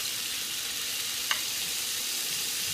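Chicken pieces frying in a pan for homemade fajitas give a steady, even sizzle throughout, with one brief click near the middle.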